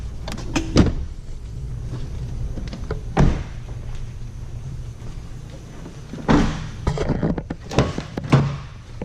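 The rear seats of a 2015 Honda CR-V are flipped back up, a few distinct latching thunks and clicks with rustling handling in between, close and fairly loud against a quiet interior.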